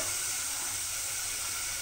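Tomatoes hit hot oil with cumin in a pan, giving a loud, continuous, even sizzling hiss that holds steady from start to finish without breaks.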